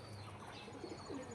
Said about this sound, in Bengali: ওড়ানো পায়রা